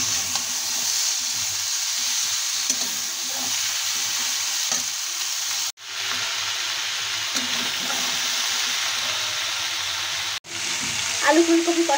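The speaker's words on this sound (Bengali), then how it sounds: "মশলার সঙ্গে আলু ফুলকপি ভালোভাবে কষিয়ে নেব।" Potato and cauliflower sauté with spices in a pan for aloo gobhi, a loud continuous sizzle close by with the scrape of stirring, broken twice by brief sharp knocks.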